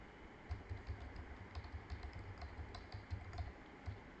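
Rapid, irregular keystrokes on a computer keyboard while entering trading data, light clicks tapping steadily throughout at a quiet level with faint background hiss.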